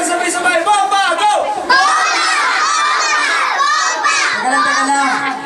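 A group of children shout together at a first birthday party, loud excited overlapping voices rising into cheers, close and continuous.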